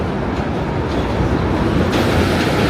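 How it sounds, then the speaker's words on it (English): A J train rolling across the Williamsburg Bridge between Brooklyn and Manhattan, a loud, continuous rumble of rail cars close by with a brightening screech toward the end, no talk over it. "J-Train."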